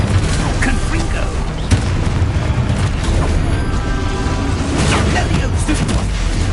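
Booming spell explosions from a wizard video game, loud and dense throughout, with several sharp blasts standing out over a continuous rumble and background game noise.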